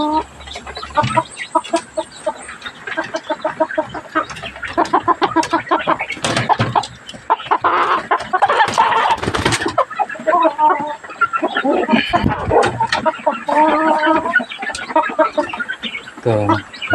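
Native chickens cluck and call continuously at close range, with busy overlapping bird sounds and people talking throughout.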